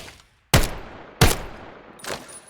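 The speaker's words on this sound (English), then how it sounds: "Sound effects changes gunshots like these." Gunshot effects from the VR shooter VAIL VR: three loud, sharp shots spaced roughly two-thirds of a second apart, each with a short echoing tail, the last one somewhat softer.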